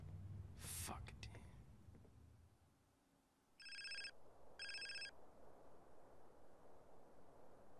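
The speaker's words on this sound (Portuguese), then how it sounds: "Hey, o telefone." A telephone rings in the video game GTA San Andreas with two short, bright electronic rings in a row, followed by a rhythmic pulsing pattern; a brief voice and noisy game sound come just before.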